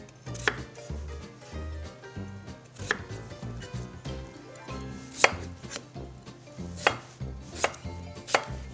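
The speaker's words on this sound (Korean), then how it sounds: "우선 절반을 자르고 반달 모양으로 해서 1cm 간격으로 두툼하게 썰어주세요" A knife thuds steadily through halved potatoes onto a cutting board, cutting thick 1 cm half-moon slices, a run of firm, evenly spaced chops up close with a few sharper knocks, no talking.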